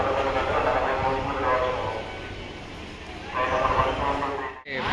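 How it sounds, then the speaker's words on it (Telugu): Simhadri Express rolls into platform 2 at Nidadavolu Junction, a loud, close rumble of railway wagons that eases and swells again, with a voice talking over it. "ప్లాట్ఫామ్ నెంబర్ 2కి సింహాద్రి ఎక్స్ప్రెస్ వచ్చింది."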